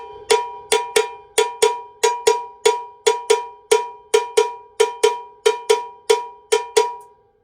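A cowbell plays a cascara-like mambo bell pattern, a steady string of sharp, ringing strikes in a syncopated rhythm, close and alone.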